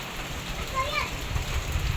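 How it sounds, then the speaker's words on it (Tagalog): Steady rain from Typhoon Pepito hissing and pattering outdoors, with a faint voice briefly audible in the background. "ulan na naman po dito"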